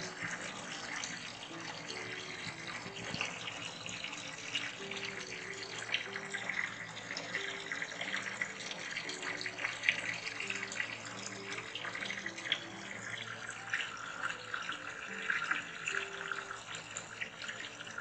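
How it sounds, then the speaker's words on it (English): Water runs steadily from a hose into a tub for an indigo dye vat, a continuous splashing fill that stays even and fairly close throughout. "I'm going to use a hose because it's convenient."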